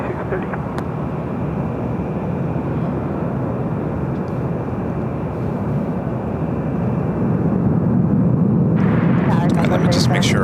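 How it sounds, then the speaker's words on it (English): A Delta Airlines Airbus A350-900 jet at LAX airport, arriving from Tokyo Haneda, its engines giving a sustained rushing roar that grows slightly louder toward the end, with voices at times. "That was Delta Airlines Flight 8 coming up from Tokyo Haneda on a 3-year-old A350-900"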